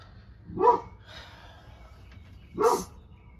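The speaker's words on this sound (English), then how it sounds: "Sorry for the barking there." A dog barks twice, about two seconds apart, moderately close against a quiet background, with a faint sound in between.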